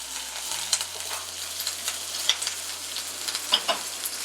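Curry leaves, green chillies and urad dal sautéing in a tempering pan, a continuous close sizzle with scattered crackles and pops, accompanied by a low steady hum underneath.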